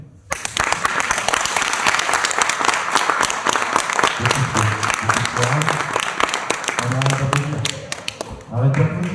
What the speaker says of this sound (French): Arrête d'applaudir